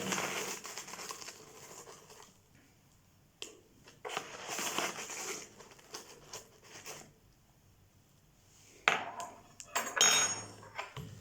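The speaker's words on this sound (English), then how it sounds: "add 2 tablespoons of semi-skim milk powder" Milk powder scooped with a spoon into a glass of full fat milk for a fortified milkshake, giving soft scraping and light clinks of the spoon in short bursts with pauses, close by.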